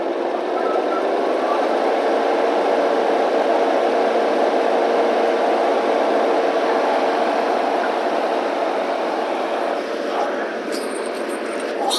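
A carbureted engine idles steadily up close with a constant mid-range drone, its revs easing downward as fresh gasoline clears out diesel fuel that had been mixed into the tank.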